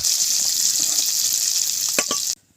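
Salted dried fish frying lightly in hot oil in a village kitchen, making a loud, dense, continuous sizzle close by, broken by a couple of brief clatters before the sound cuts off sharply.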